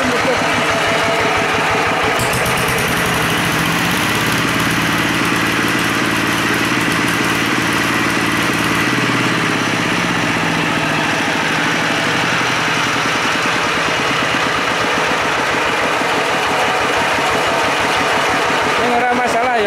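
A diesel tractor engine with a crankshaft fault and hard-starting trouble runs in a steady rapid chugging idle, rising briefly as it is revved before it settles back. Someone talks over it close by.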